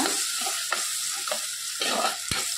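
A spatula scrapes and stirs through a thick ground paste sizzling in a pan, with a few sharper clinks of utensil on metal.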